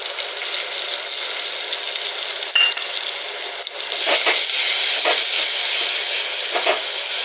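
Ground masala tips into softened onions in a hot pan and fries with a steady sizzle, a spoon stirring and scraping through it with a few light metallic clinks.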